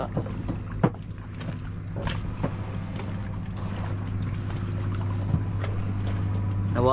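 A crowded boat on the water, heard as a steady low engine-like drone with wind and knocks against the hull, faint voices and clatter mixed in throughout.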